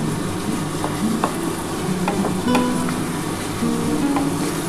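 Spice paste for a duck egg curry frying in oil, a loud continuous sizzle with crackling pops and the intermittent scrape of stirring against the pan, no voices.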